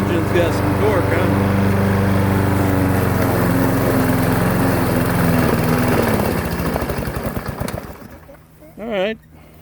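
A Briggs & Stratton 6.75 small engine runs loud and close with its muffler fitted, labouring and sputtering as it bogs down, then cuts out into near quiet, with a brief voice at the end.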